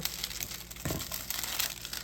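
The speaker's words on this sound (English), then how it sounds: "Take the plastic off. It'll work better." Close, crackly plastic wrapping crinkling and rustling continuously for a couple of seconds, with a brief tearing burst partway through.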